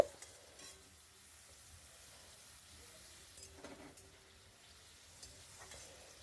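Grated carrots frying in a pan for homemade fried rice give a faint, steady sizzle, broken by a few soft stirring scrapes and clinks.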